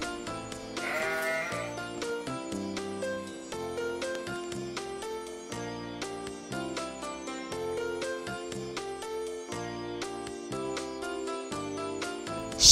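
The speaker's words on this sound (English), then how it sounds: "Sheep." A sheep bleats briefly near the start, set against continuous bright, cheerful music that runs throughout.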